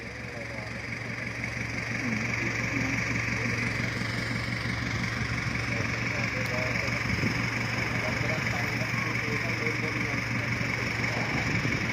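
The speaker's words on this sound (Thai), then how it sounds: "เหยียบคันเร่งเบาวิวเลย" A modified car engine held at light throttle, a continuous mid-pitched drone that swells slightly early and then holds steady and fairly loud for the whole stretch.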